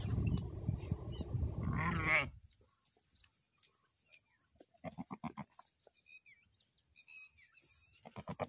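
Sheep bleat in a loud, dense flock for about two seconds, then the animals fall quiet, leaving faint scattered calls, with brief bursts of voices or movement further off.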